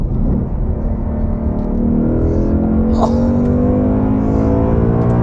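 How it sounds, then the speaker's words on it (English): A 2021 Ford Mustang Mach 1 revs loudly close by with its exhaust baffles open in track mode, its exhaust note climbing in pitch as it builds to a sustained, throaty roar. "turns it into such a loud exhaust"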